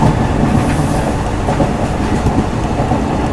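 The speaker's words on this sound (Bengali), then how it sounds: "পাশে আবার ট্রেন চলছে" A passenger train on the Agartala to Silchar line rumbles steadily, heard from on board as a loud, continuous roar of wheels and carriage noise with faint rhythmic clatter.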